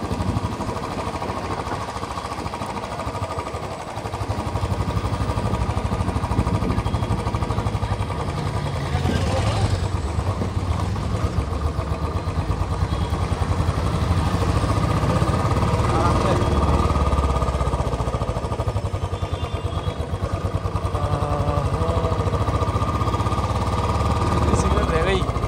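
Bullet motorcycle engine on a night ride, a steady close low-pitched thumping rumble with wind noise running the whole way, while a rider speaks over it.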